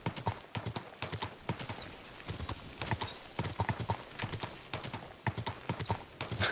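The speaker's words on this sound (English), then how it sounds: "the sound effects of your horse are going faster than your actual horse." Rapid, rhythmic hoofbeats of a galloping horse in the medieval video game Kingdom Come Deliverance 2, a steady clip-clop pattern close and distinct with no talk over it.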